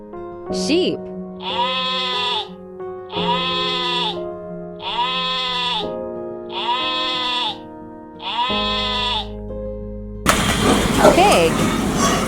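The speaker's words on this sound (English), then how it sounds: "Sheep." A sheep bleats six times in a steady rhythm, each bleat a wavering nasal cry of similar length, close and clear over soft background music, followed by a burst of broad noise at the end.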